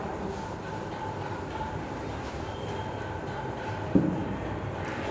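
A train rumbles steadily, with a low continuous drone and one sharp metallic clank partway through.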